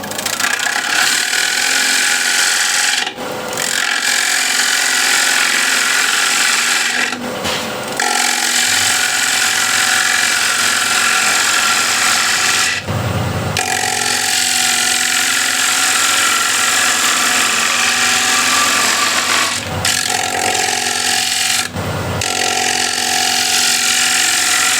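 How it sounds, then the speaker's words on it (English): A 16 mm ball gouge cuts a large wooden bowl spinning on a lathe, giving a loud, steady, rushing scrape that runs unbroken apart from a few short pauses where the tool lifts off. "So now I'll actually grab 16 mil ball gouge and continue on."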